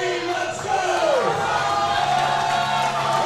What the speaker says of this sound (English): Wow, the crowd is a whole lot more intense,